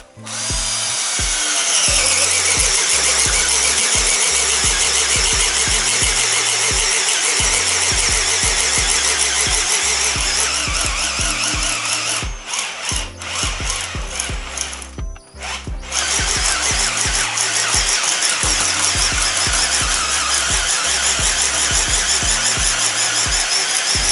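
Loud, close whirring of a Skil CD1E 3070 brushless cordless screwdriver in screwdriving mode, setting 1, driving a screw, its motor pitch pulsing and straining, with brief pauses before resuming.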